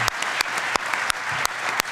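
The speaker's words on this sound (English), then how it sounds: "So wanted to also give a quick round of applause for the Lester Center and Kirsten for" A crowd at an evening event gives a quick round of applause for the organizers, steady clapping with a few sharper claps standing out close by.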